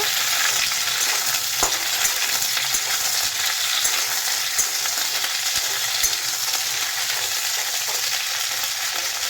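Sliced okra sizzles steadily in a hot pan as it is stirred, a dense, even crackle with occasional soft scrapes running throughout, no voices.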